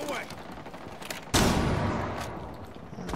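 Flashbang grenade going off in Rainbow Six Siege, a single sudden loud bang that rings out and decays slowly, after some muffled game noise and a voice.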